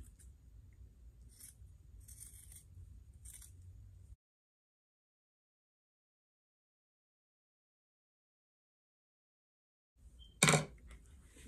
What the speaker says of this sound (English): I'm just going to trim it.